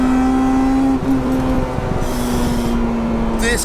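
A supercharged Honda Integra Type R DC5 engine screams under hard acceleration, a loud sustained high-revving whine heard from inside the car, with a brief shift dip and gear change near the end.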